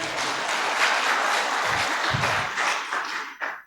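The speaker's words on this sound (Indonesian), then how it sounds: "Tepuk tangan dong buat panitianya." An audience at an Indonesian Islamic business forum applauds the event organizers. The clapping is a dense, steady wash that holds for several seconds, then thins out and fades near the end.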